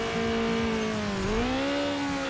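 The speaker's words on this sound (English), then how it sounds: "Down a gear, keep the revs high" Race car engine in Need For Speed Underground Rivals, a loud sustained rev that dips briefly as a gear is dropped, then climbs and holds high, with faint tire noise underneath.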